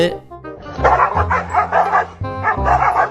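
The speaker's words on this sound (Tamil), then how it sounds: "ஒரு எலும்பு துண்டுக்கு இந்த ரெண்டு நாய் சண்டை போட்டுட்டு இருக்கும்போது" Two dogs fighting over a bone, a loud, close burst of repeated growling barks and yips in quick uneven rhythm, with short whimpering gaps between the snarling outbursts.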